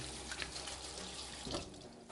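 Tap water runs steadily into a sink over a lemon being rinsed, a soft continuous splashing stream heard close and alone.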